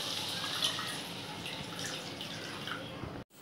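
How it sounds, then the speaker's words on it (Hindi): Half a bowl of water is poured into a pan of tomato and spice masala for a Bengali fish curry, giving a continuous close pouring and sizzling wash that cuts off abruptly near the end, with no talk. "अभी इसी स्टेज में हम इसमें डाल देंगे 1/2 कटोरी पानी"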